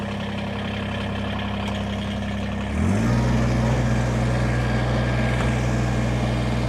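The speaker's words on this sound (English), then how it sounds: "I'm going to fire this tractor up." A 2020 Kubota BX23S tractor loader backhoe engine cranks and fires near the three-second mark, then settles into a steady, loud idle with a constant low drone.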